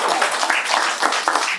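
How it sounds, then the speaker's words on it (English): A crowd claps at a 50th anniversary boat dedication at the Ocean Pines Yacht Club, producing a steady, dense patter of hands that stays fairly loud and even for under two seconds. "So big hand of applause for 50th anniversary and everybody else."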